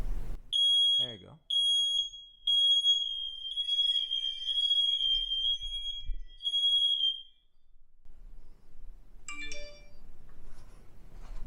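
A smoke alarm sounds a series of loud, high-pitched beeps in a steady pattern, then stops; a voice speaks briefly afterward.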